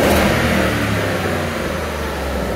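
A Hyundai Genesis 5.0L R-Spec V8 engine runs steadily and loudly throughout, a continuous close engine rumble with a slight swell near the start, no speech over it.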